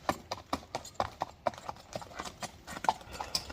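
A young horse walking, hooves striking the ground in a regular, close clip-clop rhythm with crisp individual hits, faint voices in the background.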